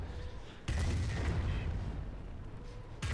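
A Nebelwerfer 280mm rocket artillery barrage in the Company of Heroes game opens with a sudden heavy boom. A dense, sustained rumble of blasts follows and fills the rest of the moment, loud and broad, with no speech.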